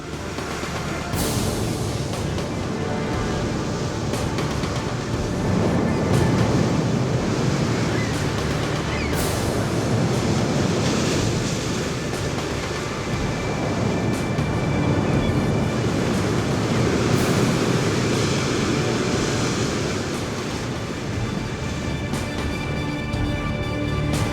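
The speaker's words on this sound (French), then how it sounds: "la pluie et le vent trouvent deux alliés redoutables, la houle et les vagues." Stormy winter surf on the Scottish coast roars continuously, heavy waves and gusting wind blending into a loud, unbroken wash of noise.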